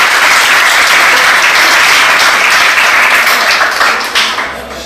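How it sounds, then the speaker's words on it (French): An audience claps loudly and steadily for a young girl at a dance battle selection in Port-Gentil, a dense close wash of applause that eases slightly toward the end. "On applaudit la petite, s'il vous plaît."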